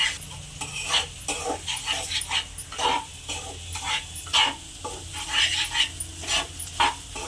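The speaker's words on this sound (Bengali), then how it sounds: "আলু, আতপ চাল আর মশলাগুলোকে একসাথে ভালো করে কষিয়ে নেব" Potatoes, uncooked rice and spices frying in a pan for a puffed-rice dish, stirred with scraping clinks of a utensil against the pot over a soft sizzle, steady and close, with no talking.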